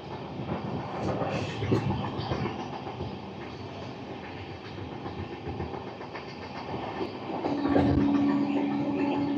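Amrit Bharat Express train with new LHB coaches runs along the track with a continuous rumbling roar and rhythmic wheel clatter, steady and close, swelling louder near the end as a faint tonal whine joins in.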